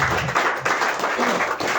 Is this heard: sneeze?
no